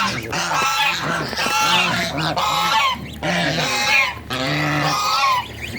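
Domestic ducks kept at a village home quack in a loud, continuous flock chorus, with repeated overlapping calls filling the whole stretch and no talking.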